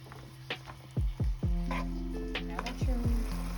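Vegetables cook in a pan for rasta pasta under a soft sizzle, with several sharp clanks and pings of a utensil against the pan.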